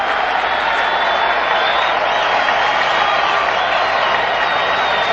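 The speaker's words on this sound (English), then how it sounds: "Jim Palmer making his walk in from the bullpen, and the crowd is roaring." A packed stadium crowd at Game 6 of the 1979 World Series, Pirates at Orioles, roars as a pitcher walks in from the bullpen; the sound is a loud, unbroken wash of voices.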